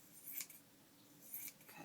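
Scissors slice through paper for a junk journal, with two brief crisp snips about a second apart, quiet and close, with no one speaking.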